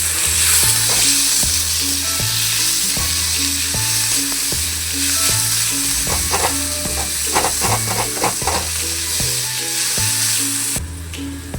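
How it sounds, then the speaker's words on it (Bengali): Sliced onions with salt sizzle steadily in a hot pan, a loud continuous fry under a repeating musical backing, with occasional stirring scrapes. "পেঁয়াজটা ভালোভাবে ভাজা হয়ে গেছে।"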